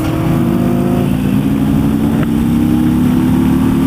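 2016 Harley-Davidson Road Glide motorcycle engine with a fresh engine, rumbling loudly and steadily up close at moderate revs, with a deep, continuous low throb.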